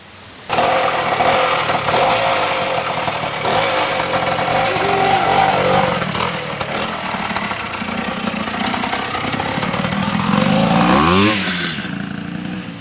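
A Yankee 500 two-stroke twin motorcycle engine runs steadily up close with a buzzy, rattling tone, then revs up sharply near the end before settling back.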